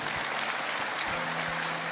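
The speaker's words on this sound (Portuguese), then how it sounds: "Você pode dar um aplauso ao Senhor?" A church audience applauds continuously, a dense, steady wash of clapping hands that holds at an even level throughout.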